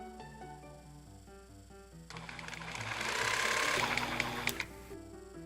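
A sewing machine stitches across the shoulder seam of a small 11-inch doll shirt, starting after a stretch of quiet background music and running as a steady buzzing whir for a few seconds before stopping with a couple of clicks.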